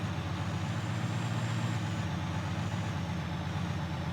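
A tractor engine idles and runs in the farming game Farming Simulator 19, a steady, mid-pitched diesel drone holding even and fairly close throughout, with no talk over it.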